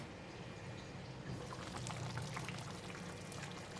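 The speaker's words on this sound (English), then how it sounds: "I have added about 1 cup of water." Water poured into a simmering pot of dry pork rib curry with potato, a faint, steady liquid splashing and trickling sound over a low bubbling background, with no voices.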